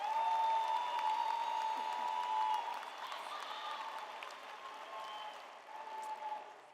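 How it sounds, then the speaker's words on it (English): Audience at a spring graduation ceremony applauding the platform party, a broad, moderately distant wash of clapping in a large hall with a faint tone ringing through, fading slightly before swelling again. "Give them a round of applause if you would."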